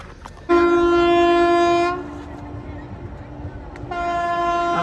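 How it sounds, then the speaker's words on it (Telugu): A train passing through Araku sounds its horn in two loud, sustained blasts, the first close and strong, the second starting near the end, over a steady rolling rumble with no talking. "అక్కడ చూసారు, అక్కడ ట్రైన్ వెళ్తుంది."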